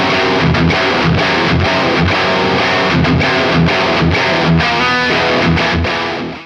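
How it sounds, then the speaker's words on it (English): Electric guitar through an Origin Effects Revival Drive Hot Rod pedal at high gain, loud saturated distorted chords played in a driving rhythm with chugging palm-muted stops, fading at the end. "pretty rippin' high gain tones like you heard in the intro of the video"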